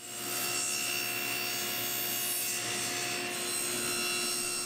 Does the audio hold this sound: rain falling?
no